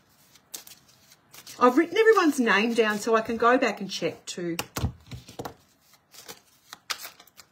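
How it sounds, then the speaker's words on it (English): Tarot cards shuffled by hand in a series of soft, quick riffling clicks and taps, close up and continuing under and after a woman's speech. "I'm just shuffling the cards for you."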